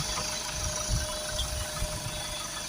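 A Ford Transit Custom 2.0 EcoBlue diesel van engine idles steadily in the background, a low rumbling chug with faint rattling and a constant high whine, no voices.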